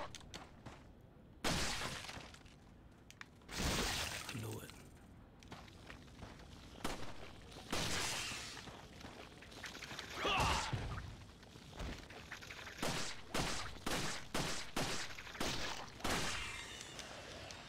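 Shots fired at an enemy in Resident Evil 4, sharp cracking and crashing impacts scattered irregularly, with a dense cluster of rapid bangs near the end, mixed with game noise.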